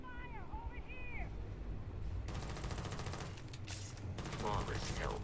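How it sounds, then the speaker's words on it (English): Heavy gunfire in Starfield, sustained rattling bursts of automatic fire at a moderate distance, preceded by a short voice line and mixed with game ambience. "Heavy fire over here!"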